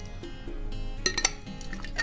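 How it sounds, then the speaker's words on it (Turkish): Pickled hot peppers in tomato sauce are spooned into a sterilized glass jar, giving soft wet plops and a couple of bright glassy clinks against the rim, close and quiet with no talking. "Sterilize ettiğim kavanozumun içerisine dikkatli bir şekilde koyuyorum."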